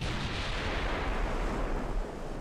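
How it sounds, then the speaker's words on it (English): Battleship broadside gunfire in the naval strategy game Ultimate Admiral Dreadnoughts, a dense continuous roar of heavy guns and rumbling booms held at steady loudness throughout, with no talking. "let's swing in towards the battleships, give our full broadside to these guys."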